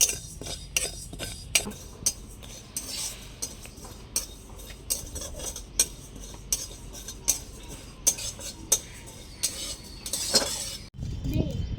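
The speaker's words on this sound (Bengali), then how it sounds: "জিরাটা আমি ভেজে নেব ভালো করে শুকনো খোলায়।" Cumin seeds are dry roasted in an empty pan while a utensil stirs them, producing a busy run of close scraping and metallic clinks with no sizzle, and a voice now and then.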